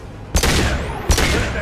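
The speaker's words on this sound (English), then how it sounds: "That fuel tank's coming loose! Shoot it!" Two sharp bursts of video game gunfire aimed at a loose fuel tank, each a loud broadband crack with a sustained rumbling tail, spaced under a second apart with a low background drone between them.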